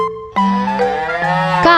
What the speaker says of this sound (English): Today we will learn farm animals. Cow,